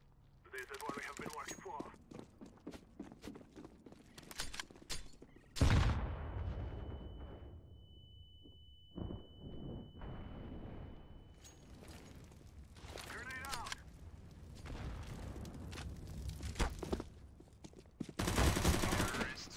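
Rapid bursts of gunfire and sharp shots from Counter-Strike: Global Offensive, interrupted by a sustained tone, with people talking over it in Polish.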